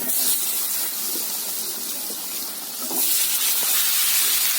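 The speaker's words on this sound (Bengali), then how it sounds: "ডিম ভাজা তেলে আমি এখন স্কোয়াশগুলো ভেজে নেব" Squash pieces fry in the oil left over from frying eggs, giving a continuous broadband sizzling hiss that stays steady and fairly loud throughout, with a slight swell near the end.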